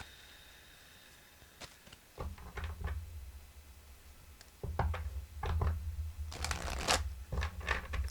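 Fairy Forest deck of cards being shuffled, with soft riffling bursts and sharper card snaps at close range over a quiet background, no voices.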